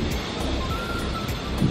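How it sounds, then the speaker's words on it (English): Strong wind buffeting outdoors in Shinagawa, a steady rough rumble across the whole moment with no talk. "It's very windy."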